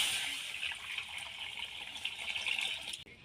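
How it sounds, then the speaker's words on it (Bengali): Tap water gushes steadily into a cooking pan set up for boiling eggs, a close, continuous pouring hiss that cuts off abruptly at the end. "পরিমাণ মতো জল দিয়ে দেব।"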